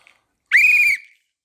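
A single loud, shrill blast from a 3D-printed whistle lasting about half a second, close and piercing, with a faint click just before it.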